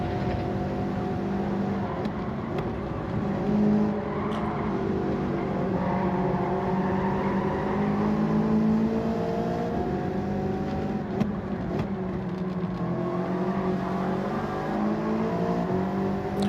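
A race car accelerating in Gran Turismo 7 on Trial Mountain, the engine droning steadily and rising and falling in pitch through gear changes, loud and continuous with no voices.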